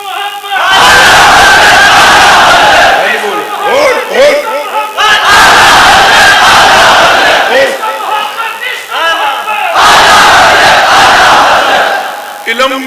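A large crowd at an Islamic religious gathering chants slogans in loud, unified bursts, roaring in waves with short pauses between, close and powerful.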